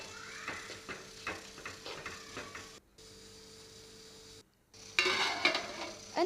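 A spoon stirs salt into gathiya curry in a pan, giving quiet rhythmic scrapes and clinks over a low sizzle, broken by short pauses, then louder clattering at the end.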